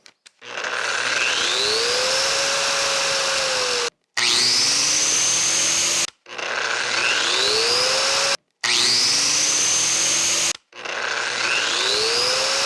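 A Hilti DGH130 concrete grinder with soft start is switched on and off several times; each start is a motor whine that climbs smoothly in pitch to full speed, loud and close, with brief silent gaps between runs and no talking.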